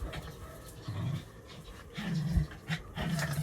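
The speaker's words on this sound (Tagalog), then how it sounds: "ang mga aso namin." Several dogs pant in rapid, breathy bursts close by, with short throaty huffs and low vocal grunts between quieter stretches; no one talks over them.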